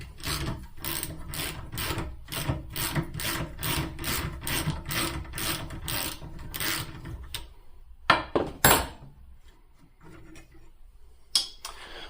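A socket wrench ratchets steadily with a quick rhythmic clicking while loosening a shoulder bolt from a motorcycle shift lever held in a bench vise. Then come a few sharper metallic knocks and a pause, all close.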